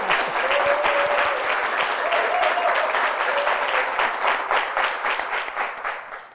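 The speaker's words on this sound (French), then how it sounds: "Je veux qu'ils s'applaudissent eux-mêmes." Saturday-night theatre audience applauding, a dense, steady wash of clapping close by that thins slightly toward the end.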